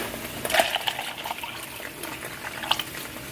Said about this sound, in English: now I'm gonna pour the Dunkin' coffee in here